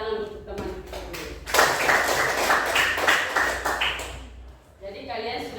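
Applause from a class audience in a Catholic school religion session, a burst of clapping that swells in the middle and fades, with talk before and after it.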